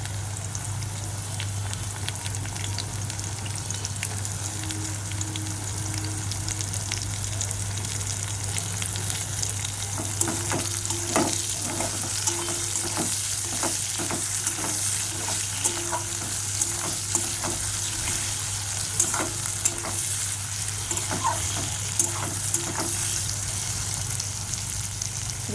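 Potatoes fry with softened onions in a pan, giving a constant close sizzle under a low steady hum, with intermittent scraping and tapping from stirring through the second half and no talking.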